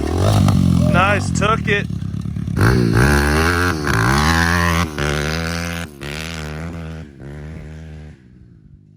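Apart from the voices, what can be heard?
Pitster Pro FSE 190 dirt bike being ridden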